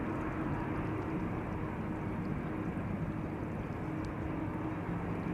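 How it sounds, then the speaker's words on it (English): An Airbus A330 taxis toward the runway threshold at Schiphol Airport, its engines making a steady, broad, loud roar that holds constant throughout with no pauses. "A330 also going to the runway threshold."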